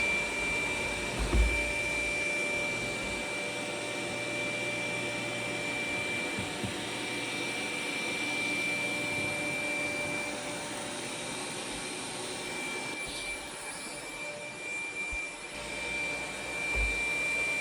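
A Dreame Z10 Pro robot vacuum runs at maximum suction over sand and cat litter. Its steady, whining motor roar holds for the whole stretch, with faint rattling bumps and no voices.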